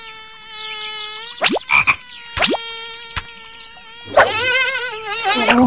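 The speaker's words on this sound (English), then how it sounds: "Let's trap some mosquitoes." Buzzing mosquitoes and croaking frogs in a BabyBus children's mobile game, with bright whining insect tones, several sharp sweeping swoops and a burst of warbling near the end over steady cheerful game music.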